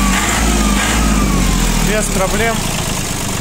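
A Japanese farm tractor with loader engine running at close range, a steady loud chugging drone with a brief rise in revs near the end, under someone talking.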